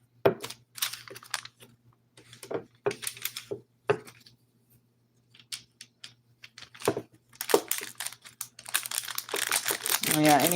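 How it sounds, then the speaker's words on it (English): Parchment paper crinkles and rustles in short, sharp bursts while polymer clay earrings are made, close and fairly soft, with quiet gaps, light tapping and a louder burst of crinkling at the end. "I'm carrying parchment paper if you hear"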